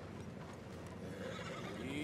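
Horses in Red Dead Redemption 2 whinny faintly in the distance over a dense bed of hooves and outdoor game sound, with a voice murmuring underneath.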